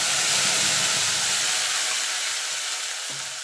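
Ginger, green and dried chilli and tomato masala paste frying in hot oil for a vegetarian potato curry, a steady close hiss and sizzle that fades slightly toward the end, with no voices.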